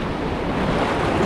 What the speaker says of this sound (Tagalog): grabe yung alon mga buddy